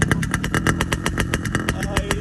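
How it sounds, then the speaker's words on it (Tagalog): A Kawasaki HD3 140 Betamax-model motorcycle engine revs hard and continuously, its rapid, throaty firing pulses loud and close with no pause. "At tingnan nyo naman, i-flex natin yung tunog ng Pops, ng motor ni Pops."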